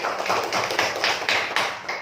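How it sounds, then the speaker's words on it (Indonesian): A class of students claps together in a classroom, a short run of rhythmic, evenly spaced hand claps that sound close and fairly loud, with no talking over them. "tepuk tangan buat kalian"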